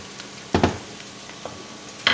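Onion and garlic sizzle softly in a pan, a low steady frying hiss broken by a few sharp clinks and scrapes of a utensil, close up with no talking.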